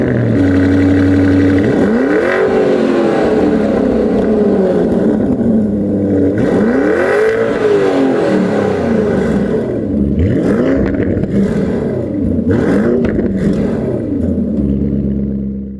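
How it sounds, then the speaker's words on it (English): An ABT-tuned Lamborghini Urus Scatenato SUV fires up and is revved several times, loud, close engine roars rising and falling in repeated swells over a steady deep idle, with no talking. "Let me start the car. We do a little sound check now."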